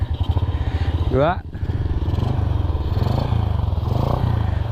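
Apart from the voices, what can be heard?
Honda Astrea Grand motorcycle engine running with Jupiter carburetor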